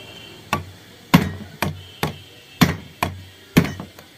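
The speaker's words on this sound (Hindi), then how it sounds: "सिर्फ दो या तीन हथौड़े में अपनी रिपीट निकल जाएगी बाहर" A hammer knocks a rivet out of a washing machine motor, landing about nine sharp, close metallic blows at a steady, slightly uneven pace with no speech.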